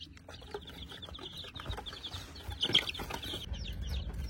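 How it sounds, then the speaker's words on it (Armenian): Newly hatched chicks and a few goslings peep in a brooder, a steady stream of high, overlapping chirps close by with faint rustling underneath. "Սա էլ արդեն բրուդերի մեջ մնացած ճտերն են"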